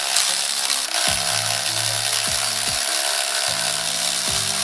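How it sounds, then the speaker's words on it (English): A ratchet winds in flywheel bolts on a Honda Civic Si during a clutch job, giving rapid clicking runs in several bursts over a steady background hum, close and moderately loud. "Now I'm just gonna wind all these in till they're snug"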